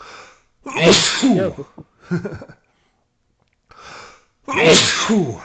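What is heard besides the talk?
sneeze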